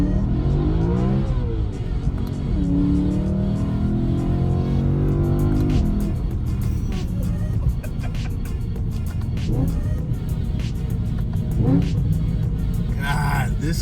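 A BMW E90 M3 with an Alpine Stage1 tune driving, its engine rumbling and revving up through the gears with rising pitch sweeps, loud and close inside the car, with someone talking over it.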